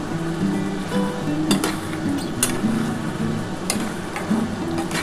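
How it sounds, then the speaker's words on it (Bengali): A ladle or spatula scrapes and knocks in a pan of ghugni, a street-style yellow pea curry, with irregular metallic clinks and scraping strokes over a low background hum. "ভালো করে কিন্তু এবার নাড়াচাড়া করতে হবে।"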